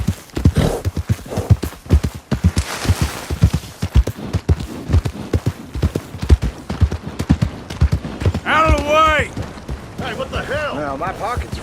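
Horse hooves clip-clopping steadily on a trail in the Red Dead Redemption 2 western video game, a close, rhythmic trot with a whinny near the end and someone talking over it.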